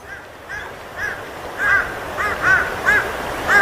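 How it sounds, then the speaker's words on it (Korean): A crow caws repeatedly outdoors near a valley stream, about eight harsh calls in an even rhythm, growing louder toward the end over a low background hiss. "까마귀가 깍깍거렸지"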